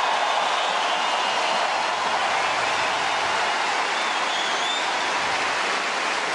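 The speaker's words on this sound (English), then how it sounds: "That round of applause, Fitzy, it just lingered a little bit longer than it normally does." Sustained stadium crowd applause for Roger Federer at the Australian Open, a dense, steady roar of clapping that holds loud and unbroken throughout with no voices standing out.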